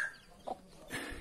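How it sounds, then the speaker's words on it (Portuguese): Chicken clucking briefly on a farm in the Brazilian northeastern backcountry, a short close cluck over faint outdoor background. "Aqui tem a galinha de pinto também."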